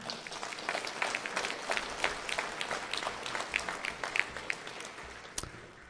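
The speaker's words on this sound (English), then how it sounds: "If we can just get a quick round of applause for them." Fairly quiet round of applause from an audience at a candidate forum, honoring the crew who set up and took down the chairs; scattered individual claps stand out over a soft, steady patter.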